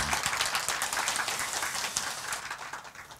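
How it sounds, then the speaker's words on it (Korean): A church congregation at a Sunday worship service applauds the choir with a burst of dense, steady clapping that gradually tapers off over a few seconds. "우리 격려의 박수로 응해 주시기 바랍니다."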